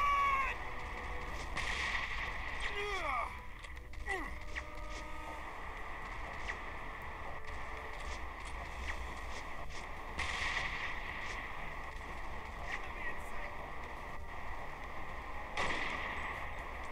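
Gunfire in the Android shooter Modern Combat 2: Black Pegasus sounds as scattered sharp shots and thuds over a steady in-game ambient hum, fairly faint and spread across the stretch.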